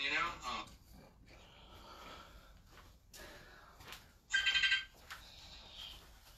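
A phone ringing with an incoming Facebook call: two short bursts of ringtone, one at the start and a louder one a few seconds later, with people talking in between.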